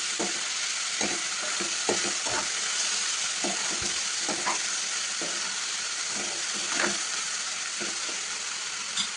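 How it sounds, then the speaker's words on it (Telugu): Ivy gourd and soaked moong dal curry being stirred in a pan, a steady frying sizzle broken by irregular scraping spoon strokes throughout, close and clear with no talk. "ఇప్పుడు బాగా కలుపుకోవాలండి మొత్తం మిక్స్ అయ్యేలాగా కలపాలండి"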